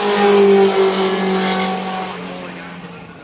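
A competitive race car at the Goodwood Festival of Speed drives past with a strong, steady engine tone that peaks early and gradually fades as it moves away, with faint voices in the background.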